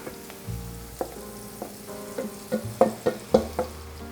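Marinated meat sizzles in a hot pan while being cooked for spaghetti sauce, with a steady fry punctuated by repeated clatters and scrapes of stirring.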